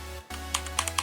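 Keys clacking on a Redragon K552 Kumara mechanical keyboard, a few separate sharp presses over a steady low hum. Close and fairly loud, with no talking.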